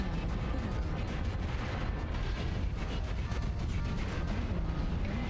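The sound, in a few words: airstrike explosions in the video game Mechwarrior Online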